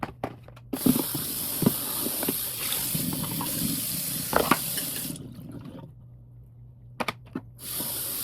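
Tap water runs steadily with a loud hiss and splash for several seconds, stops, then starts again, with a few clunks and knocks in between.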